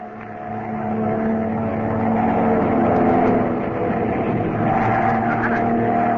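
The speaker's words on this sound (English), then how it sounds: "Our only chance is to put this plane into a power dive." Radio drama sound effect of an airplane going into a power dive during an aerial attack, a loud steady roaring engine drone that swells slightly and holds for several seconds with no talking.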